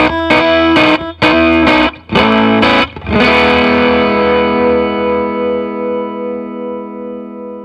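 Heavily saturated electric guitar distortion from a RAT distortion pedal at maximum gain, several choppy chords struck in quick succession, then one thick chord left ringing out and slowly fading.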